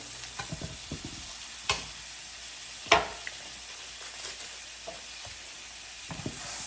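Butter melting and sizzling in a pan used for steak in a steak and broccoli stir fry, a low steady frying hiss with a couple of sharp clinks and scattered light utensil taps, close and fairly quiet.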